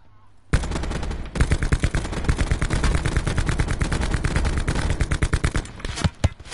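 Rapid automatic gunfire from a Call of Duty game on PS4 rattles in dense, loud bursts, with a few sharper single shots near the end and no clear talking over it.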